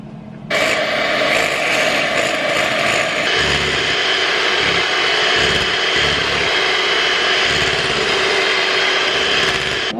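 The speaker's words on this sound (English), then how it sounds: "Now we add the cream and then whisk it until thick and holding its shape like a cheesecake" An electric mixer whisks cream until thick for a cheesecake, a loud steady motor whine that starts abruptly and holds for ten seconds, with beaters churning and clattering against the bowl.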